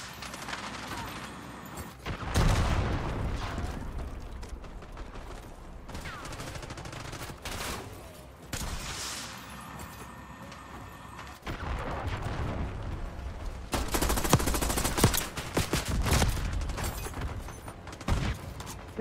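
An Archangel missile launcher fires in a video game, producing several loud, dense bursts of rapid blasts and booms that swell and cut off, separated by quieter stretches.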